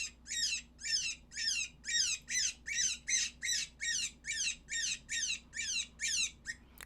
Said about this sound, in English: This is GS Hi Cottontail. This is a really, really good rabbit.